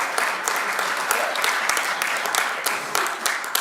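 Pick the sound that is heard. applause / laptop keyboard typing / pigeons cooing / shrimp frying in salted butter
applause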